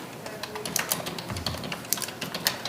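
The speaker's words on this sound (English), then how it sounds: "that's because Mr. Hill's typing" Rapid keyboard typing in a municipal courtroom, a steady stream of light clicks and taps over a quiet room hum, fairly close and alone without talk.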